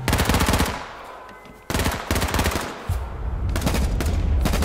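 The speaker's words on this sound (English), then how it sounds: "Oh, I'm getting shot at." Rapid automatic gunfire in the PS4 battle royale game H1Z1, loud bursts of rattling shots with a brief quieter gap, then sustained fire resuming.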